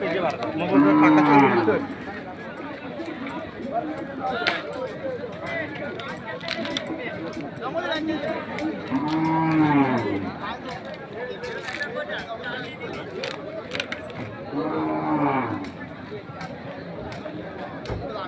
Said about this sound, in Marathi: बघा खिल्लारी बैल आहे